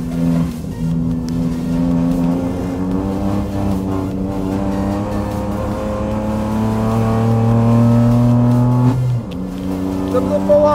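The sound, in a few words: Kia Picanto 1.0 three-cylinder turbo engine revving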